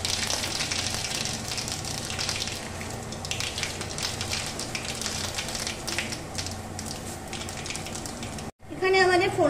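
Mustard seeds and halved dried red chili sizzling in hot oil for a tangy mango dal tempering, a steady dense crackle that runs on without a break before stopping abruptly, with a brief voice afterward.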